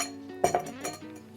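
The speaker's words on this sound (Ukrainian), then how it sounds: "Келих. Колінс, лід кубик. Один, два, три." Ice cubes drop into a Collins glass with a few bright, ringing clinks in quick succession, close and clear against a quiet background.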